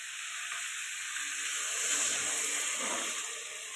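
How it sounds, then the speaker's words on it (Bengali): Water poured into a hot pan of fried potato and cauliflower curry sets off a steady, close sizzling hiss that swells briefly midway, then settles into a bubbling simmer. "এবার জল দিয়ে দেবো।"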